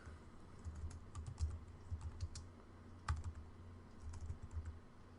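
Quiet keystrokes on a computer keyboard, tapping steadily in short runs over a low background hum, with one slightly louder clack near the middle and no voices.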